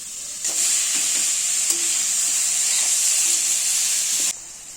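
A mix of grated coconut and jaggery goes into a hot wok and cooks with a bright, loud hiss and sizzle that starts suddenly, holds steady with faint scraping knocks, then cuts off.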